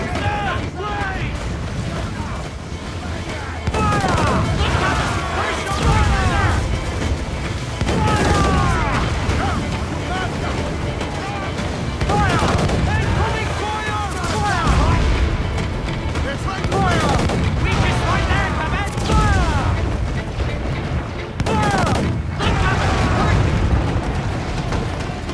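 Broadside cannons boom repeatedly in a naval battle in Assassin's Creed IV: Black Flag, heavy blasts and crackling gunfire rolling on without pause amid shouting crew voices.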